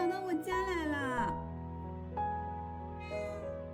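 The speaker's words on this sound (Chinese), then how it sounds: "咪咪，就是我楼下，我上次给它喂吃的那只小猫咪。" A small stray kitten meows at the door of a fifth-floor apartment, giving several loud, close, drawn-out cries with pauses between them and no talk over them.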